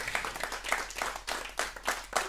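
Applause for a Berlin band at a radio concert in Rzeszów: a short burst of fairly close hand clapping with uneven rhythmic swells that rise and fall several times over a couple of seconds, with no voices over it.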